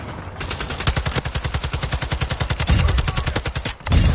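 Rapid automatic gunfire from a shooter video game rattles in a fast, loud burst of evenly spaced shots, briefly pausing before a final shot, with no talking.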